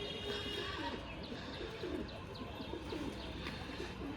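Green homer pigeons coo softly in repeated low, rolling calls, faint and steady against a quiet background hum.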